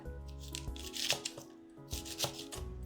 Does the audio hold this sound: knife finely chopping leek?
yes